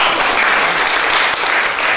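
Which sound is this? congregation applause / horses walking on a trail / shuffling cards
congregation applause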